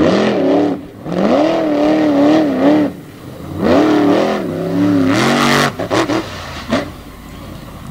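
A race car at an All Star Championship event accelerates hard out of the pits on heavy-duty Michelin tires, its engine rising and falling through two long, loud revving pulls, then a few short bursts.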